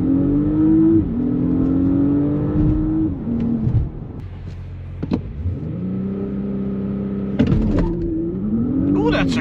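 Hybrid car accelerating hard from standstill to 100, the engine note rising and shifting through several gear changes with an electric motor whine underneath, heard from inside the cabin, with a person talking over it.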